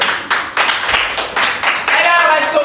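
A few people clap for a restaurant owner in Lomé during a live gathering, with a brief, uneven patter of close hand claps under lively talking and cheering voices.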